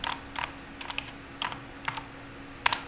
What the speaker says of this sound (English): which I then type in the username and the password